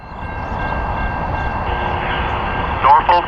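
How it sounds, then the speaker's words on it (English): Norfolk Southern freight train 256 rolling through Romulus, Michigan near Oakwood Yard outside Detroit, a steady close rumble of wheels and cars, with a brief chirping tone near the end. "NS Train 256 is coming through Romulus, Michigan on its final approach to Oakwood Yard just outside of Detroit"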